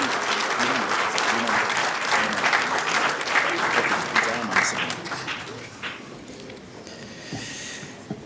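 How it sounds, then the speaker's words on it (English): A crowd at a royal address by the Asantehene applauds steadily, a dense wash of clapping that slowly thins out toward the end, with a voice briefly audible underneath. "give His Royal Majesty another big round of applause"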